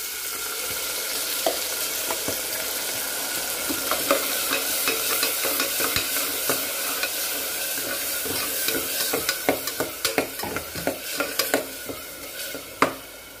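Ground mint paste sautés in ghee and oil for a Tamil mint peas pulao, giving a steady close sizzle with scraping stir strokes that grow into sharper, louder clicks toward the end. No one speaks.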